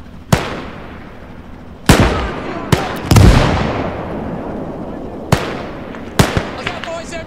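Cannon blasts and gunfire from the World War II strategy game Call to Arms: Gates of Hell, with several sharp, loud booms and shots spaced irregularly, each leaving a long rumbling decay, while soldiers shout in the background.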